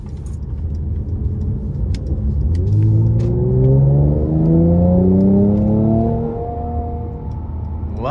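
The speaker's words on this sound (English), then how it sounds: "I'm gonna give it some power coming out of this corner here" Mercedes-Benz C43 AMG V6 coupe accelerating out of a corner, heard from the cabin as a loud, rising engine note that climbs through clear harmonics and settles near the end, with no talk.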